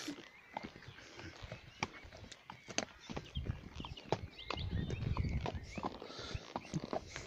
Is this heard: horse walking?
yes